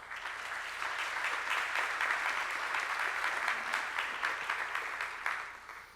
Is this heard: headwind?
no